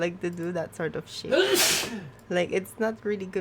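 One sharp, loud sneeze bursts out between stretches of casual conversation, people talking before and after it.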